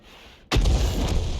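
A leFH18B2 105 mm howitzer shell fired in a tank battle game detonates suddenly after near silence, a loud close boom followed by a rumbling, crackling tail that stays heavy to the end.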